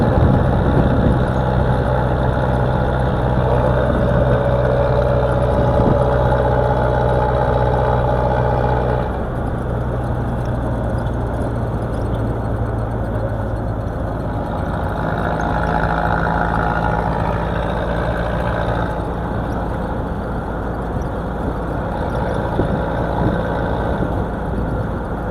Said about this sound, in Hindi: गाड़ी भी अच्छी खासी स्पीड में जा रही है और मुसलसल चलते ही जा रहे हैं।